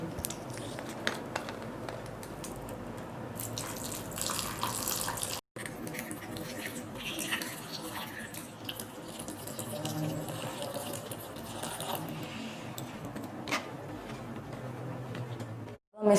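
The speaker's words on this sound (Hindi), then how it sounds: "थोड़ा सा पानी डालेंगे हम" Water pours steadily into a container while phalsa juice is made with phalsa berries and sugar, a continuous close splashing flow that runs for most of the stretch with a brief break partway through.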